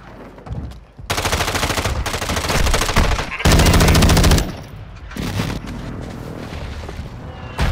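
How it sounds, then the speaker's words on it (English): Call of Duty: Modern Warfare II match with an airstrike hitting nearby: sustained bursts of automatic gunfire run together with heavy booming explosions, loud and dense, separated by short gaps where quieter battlefield noise carries on. "Hostile airstrike near your location."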